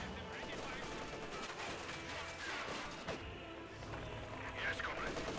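Gunfire and machine-gun bursts from a real-time strategy battle with Soviet and German forces, rattling continuously at a low level under an ongoing commentary voice.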